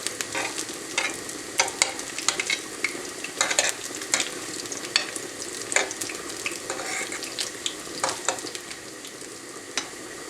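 Cauliflower frying in a pan over lowered heat, a steady soft sizzle broken by frequent sharp crackles and pops from spitting oil, close by and without speech.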